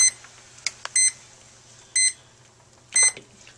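Urinalysis timer used for a manual Multistix dipstick test, giving short electronic beeps: a few quick chirps early, then three separate bursts about a second apart, clear and close over a quiet room with no talking.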